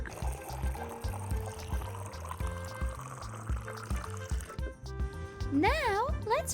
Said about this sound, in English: Let's fill the watering can with water.